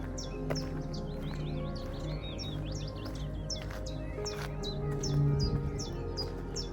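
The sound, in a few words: chiffchaffs calling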